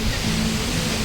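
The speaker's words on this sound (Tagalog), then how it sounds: "Grabe ang alon, oh." Heavy surf pounds a beach at Sibuco as strong waves roll in, a steady loud broadband roar with a low rumbling undertone and no pauses across the short moment.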